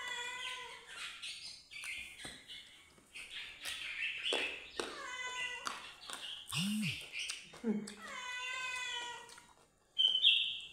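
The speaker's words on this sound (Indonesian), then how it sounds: "Banyak kucing teman-teman di sini." Several cats meow repeatedly around a home meal of tilapia cooked in coconut milk, their rising and falling calls coming close and fairly loud, mixed with a person talking.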